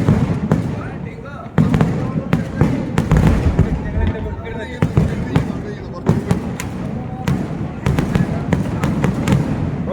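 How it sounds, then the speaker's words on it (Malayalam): Sample fireworks at Thrissur Pooram: a rapid series of sharp loud bursts and cracks in irregular clusters, booming and echoing over ten seconds, with voices heard in between. "അപ്പോൾ നമുക്ക് വെടിക്കെട്ട് കണ്ടാലോ."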